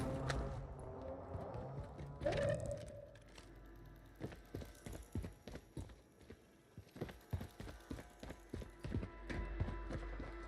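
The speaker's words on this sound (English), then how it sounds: "There's that horse in action" Video game horse hooves clip-clop in a quick steady rhythm, preceded by a neigh, with faint game sounds underneath.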